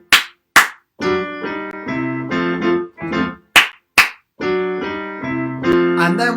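Sharp hand claps counting in a musical theatre sing-along tune: two claps, a pause, then two more, falling between bursts of sustained sung or played notes.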